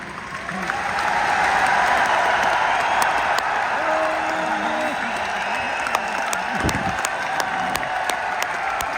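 An audience applauding loudly at an anniversary event in Indira Gandhi Stadium, a dense sustained clapping that swells and holds for several seconds, with a voice speaking over it.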